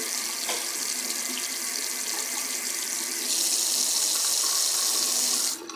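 Water runs steadily from a faucet in a continuous hiss, growing louder and brighter partway through before dropping off near the end.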